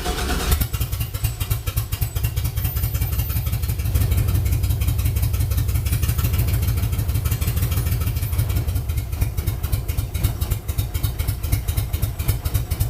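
LS-swapped 1965 Chevy C-10 pickup engine running steadily after starting, a loud close, continuous idle with a throaty rumble and a fast, even clatter throughout, no talking.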